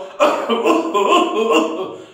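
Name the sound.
cough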